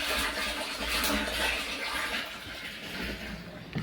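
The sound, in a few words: water flowing fast from tap after motor fix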